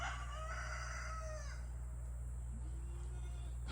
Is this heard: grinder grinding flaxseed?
no